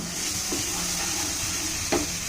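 Spices for an egg and potato omelette frying in a pan as they are stirred, a soft steady sizzle with faint scraping and a couple of light clinks of the spoon, close and quiet.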